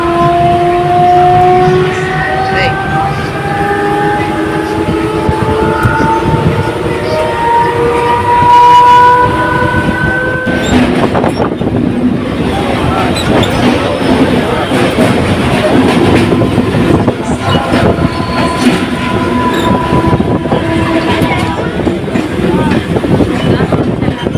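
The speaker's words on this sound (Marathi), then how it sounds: "लोकल हार्बर लाइन से पनवेल जाने वाली बारह local arrive on platform number three" A 12-car Harbour Line slow local bound for Panvel pulls into a platform, its horn sounding in long tones over the rumble and clatter of wagons rolling in, with a platform announcement voice running underneath.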